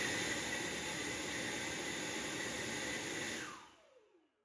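A cordless leaf blower roars steadily with a dense, hissing airflow during a force test, its tip held just inside a cylinder, then winds down and fades out near the end.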